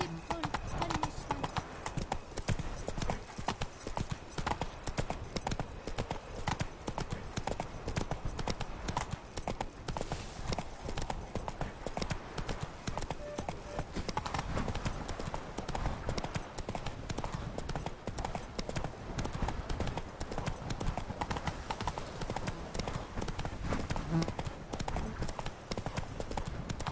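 A horse gallops in The Witcher 3 video game, with rapid, steady hoofbeats clip-clopping close and loud through the whole stretch, plus the odd whinny.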